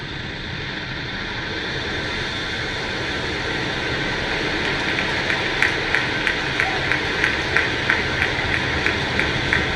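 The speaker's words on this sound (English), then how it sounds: "Ignition. Liftoff." A rocket lifts off with a steady, broad roaring rumble that grows slightly, with a voice talking over it.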